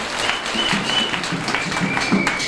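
A church congregation applauds in praise, a steady dense wash of clapping filling the space throughout with no pauses.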